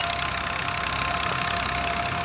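An old Massey 240 tractor engine runs at a steady idle during wheat harvesting, giving a continuous, even rumble with a faint knocking texture at close range and no talk.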